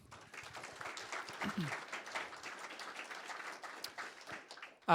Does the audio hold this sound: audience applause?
yes